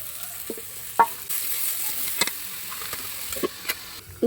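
Chopped onion added to frying potatoes and green chili in a pan, with a steady soft sizzle and a few sharp clinks of stirring scattered throughout, no talking.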